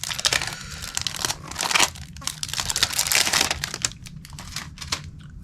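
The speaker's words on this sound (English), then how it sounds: "the plastics break down and start to stick to things. Yeah, it's just kind of peeling off" Brittle, aged plastic wrapping on a tarot deck peels and crinkles off in continuous close crackling and tearing, with a faint voice in the background.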